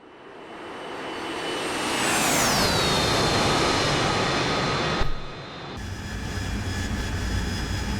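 A jet aircraft streaks past in the DCS flight simulator, a rising roar peaking with a sharp Doppler pitch drop as it passes, then fading into a steady engine hum, loud and alone.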